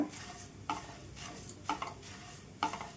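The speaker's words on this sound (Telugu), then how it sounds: "మరమరాలను వేసుకుందాం ఇవి కూడా వేయించుకోవాలండి మంచిగా" Puffed rice being dry-roasted and stirred in a pan over a low flame. Four soft, scraping sweeps sound at a steady rhythm, close by, against a quiet background.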